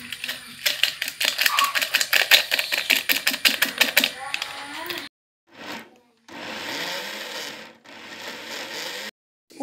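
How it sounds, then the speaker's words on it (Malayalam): A mixer grinder blends Oreo biscuits with peanut butter in rapid pulsing bursts, then runs in longer whirring spells separated by abrupt silences, loud and close. "ഇനി നമുക്ക് വീണ്ടും മിക്സിയിലിട്ട് തന്നെ അടിക്കാം"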